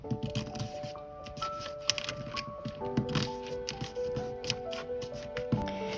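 Paper being folded upward for an origami robot, heard as close, quiet crinkles and scrapes in an irregular run of crisp taps and rustles, with faint background music throughout.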